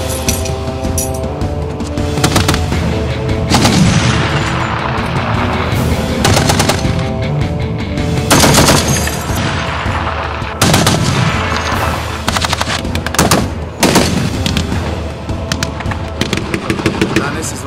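Bursts of automatic pistol fire ring out during military shooting training on a range, loud and close, in repeated rapid strings with short pauses, and voices can be heard between the volleys.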